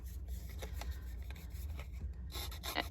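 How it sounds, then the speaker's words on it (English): Close, dry scraping and rasping of a scissors blade against a paper edge, a steady run of short strokes with a few louder bursts near the end. "I'm just scratching the edge with the scissors, giving it more of a worn look."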